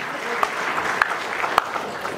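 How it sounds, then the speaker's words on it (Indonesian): Applause from an audience at a Golkar Party officials' inauguration in Teluk Wondama, a dense steady patter of many hands lasting a couple of seconds, with a few sharper claps standing out. "Mari kita tepuk tangan untuk kita hadir di siang hari ini"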